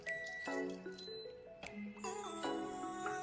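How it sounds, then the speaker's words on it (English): Water is poured into a pot of steamed goat meat for native rice, making close dripping, splashing and filling sounds in short uneven bursts. "So we're going to be adding the water."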